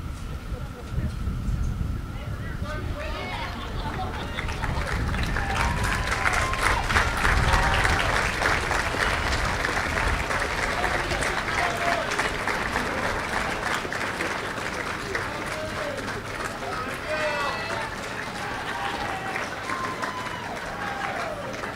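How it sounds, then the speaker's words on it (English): Sustained applause from a large crowd at a high school commencement, a dense wash of clapping that holds steady for about twenty seconds without fading out. "give them a good round of applause"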